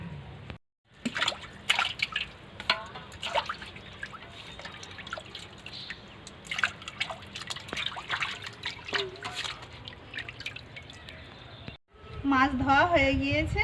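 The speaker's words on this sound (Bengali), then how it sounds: "এবার মাছ ধুয়ে নেব।" Fish pieces being washed in water after cutting, with running and dripping water, splashing and clinking of a bowl throughout, ending in a louder burst of sloshing and handling.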